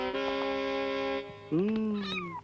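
A cat meows twice, the first call long and steady, the second a rising-then-falling cry with a short extra bleat at the end, clear and close with no talk over it.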